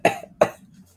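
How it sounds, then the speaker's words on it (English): Two sharp coughs about a third of a second apart, close and fairly loud, each dying away quickly into a faint background hum. "Elbow cough, elbow cough."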